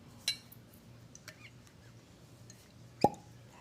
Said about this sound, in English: Just love those really good cork pops.